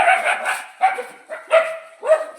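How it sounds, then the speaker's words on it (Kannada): Dog barking in short repeated bursts, about five sharp barks across a couple of seconds, fairly close and loud, with no talking over it, heard early in the morning on a trip to Ghati Subramanya. "ನಾಯಿ ನೋಡಮ್ಮ ಹೆಂಗ್ ಬಗ್ಲುತ್ತೈತೆ."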